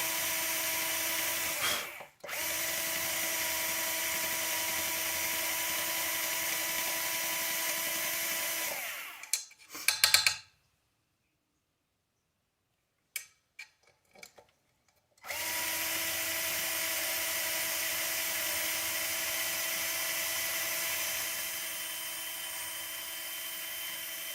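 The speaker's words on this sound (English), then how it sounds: "Drill bit's getting pretty dull." A power drill with a dull bit whines loudly for long stretches, cuts out briefly with a few sharp stops and bursts, then starts again and runs steadily.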